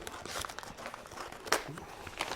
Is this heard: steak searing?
no